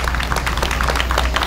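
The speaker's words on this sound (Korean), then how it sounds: "여러분 박수 부탁드립니다." An audience at a nationwide doctors' general strike rally claps in a dense, steady wash of applause that stays continuous and moderately loud throughout.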